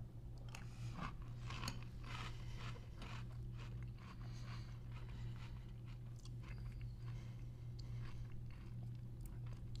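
Someone bites and chews Little Debbie Cosmic Brownie cereal soaked in milk, with soft, close, steady crunching and wet mastication over a faint low hum, no talking.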